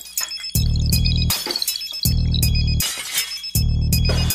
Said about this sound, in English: All I hear is glass breaking in the front of my house.